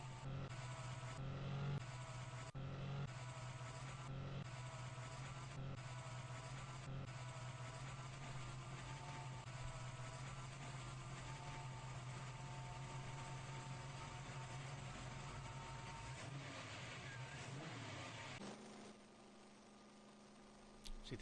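A drag car engine in a video game drones steadily at high revs throughout, a continuous buzzing roar that drops in pitch near the end with a short blip after; no talking.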